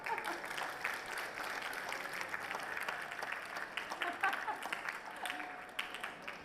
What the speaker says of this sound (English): Can we get a big round of applause for Nora, please?